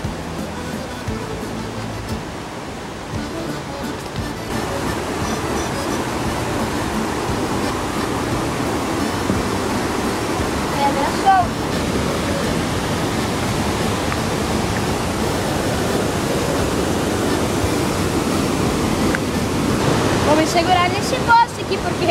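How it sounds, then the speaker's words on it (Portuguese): Constant, loud roar of rushing water from a nearby waterfall on a hiking trail, a dense wash of noise that barely changes across the whole stretch. "Essa é a segunda cachoeira, mas tem outra."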